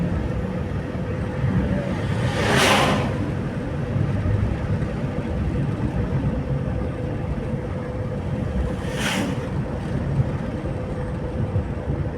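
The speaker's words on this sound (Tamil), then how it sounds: "இதுதான் சஃபாரி வண்டி வருது பாரு." Safari vehicle driving through Bandipur tiger reserve forest in drizzly, chilly weather: a low rumbling engine heard at a distance passes under steady rain-like background noise, with no talk.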